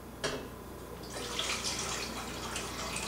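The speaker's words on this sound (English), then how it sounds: "Then you add an equal amount of water." Water is poured into a saucepan holding pork fat, a faint clink followed by a steady splashing stream of liquid that runs for a couple of seconds.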